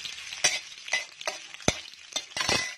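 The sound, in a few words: stirring potatoes frying with cumin tempering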